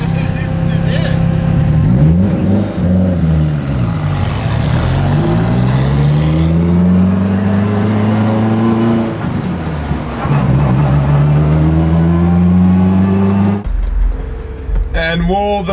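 A supercar engine that handles like a go-kart, revving steadily as it drives, rising and falling in pitch with each gear, loud and close throughout, before cutting out near the end.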